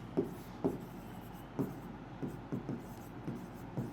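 A pen scratches on paper in handwriting, a faint, quiet series of short strokes spaced irregularly.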